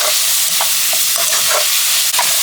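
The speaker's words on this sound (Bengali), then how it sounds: "এবার চিংড়িগুলোকে ভালোভাবে কষিয়ে নেব।" Shrimp sear in a hot spiced pan with a loud, constant sizzle, and a spatula strikes the pan about every half second in an even stirring rhythm.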